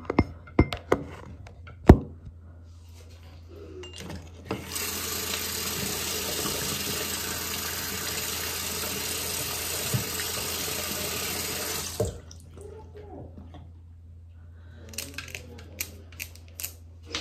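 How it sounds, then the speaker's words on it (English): A tap runs steadily for several seconds as something is washed off at a sink, framed by scattered clicks and clatter before and after the water flows. "I'm just gonna wash it off."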